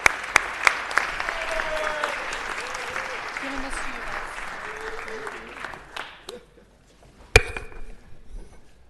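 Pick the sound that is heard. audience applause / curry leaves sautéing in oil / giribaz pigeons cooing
audience applause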